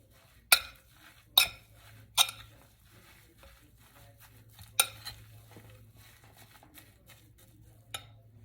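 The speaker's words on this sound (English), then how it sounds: "now that that's all squeezed in here, mix the whole thing together" Stuffed artichoke filling being mixed with wet Italian bread, heard as a handful of sharp clicks and scrapes of a utensil against a bowl, spaced irregularly over a faint steady hum, with no talking.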